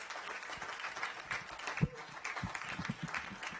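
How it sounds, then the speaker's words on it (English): Applause in a council session chamber for an honoree, a quiet patter of clapping from a modest group with a few distinct sharper claps, faint and somewhat distant. "Let's give Kavanaugh one more round of applause."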